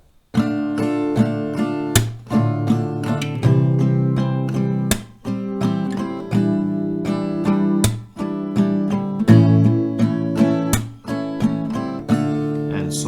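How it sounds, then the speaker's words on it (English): An acoustic guitar strums the down, up, clap pattern for a song, one strumming round per chord at a slightly slow tempo, with sharp percussive hits breaking up the steady close-up strums. "You will play one strumming round for each chord"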